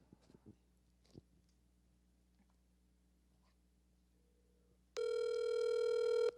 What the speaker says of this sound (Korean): 아주 형식적인 벨소리죠.